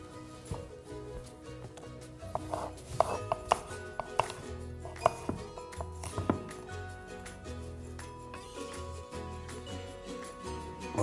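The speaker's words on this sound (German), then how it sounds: "etwas Apfel dazu schneiden." Apple pieces being cut for homemade muesli: a series of close, irregular knife chops and clicks on a board, some sharper taps standing out, fairly quiet and without talk.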